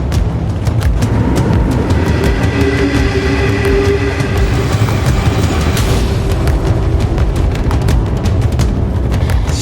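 A locomotive hauls a train over wet rails under a 40 km/h limit, a loud, steady rumble with rhythmic wheel clicks and some squealing tones, close and continuous with no talking.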